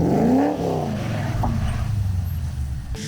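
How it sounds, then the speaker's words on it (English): Car engine revving under throttle as the car initiates a drift and slides into a spin, a loud rising engine note that falls away into a steady drone, with tire noise close by. "if you do nothing, the car is going to roll around and it's going to go into a spin"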